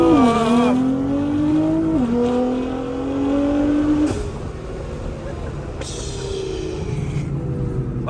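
A tuned Nissan GT-R with over 750 horsepower accelerates hard on the road in Tijuana, Mexico, its loud engine pitch rising through gear changes with sharp shift drops and a sustained roar.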